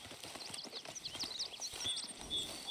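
Horse hooves clip-clop steadily in the video game Red Dead Redemption 2, a quick even walking rhythm, fairly quiet, with faint ambient bird chirps above.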